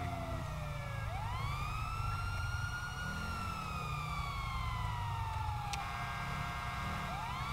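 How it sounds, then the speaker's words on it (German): A police siren in Grand Theft Auto 5 wails in long rising and falling sweeps, steady and fairly loud over a low rumbling engine, with no voices. "Lass mal die Sirene an."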